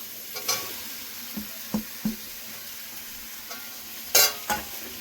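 A spoon stirs fried taro and potato into spices in a pan for a vegetarian Bengali taro curry, making scattered scraping knocks over a low, steady sizzle, close by with no talking.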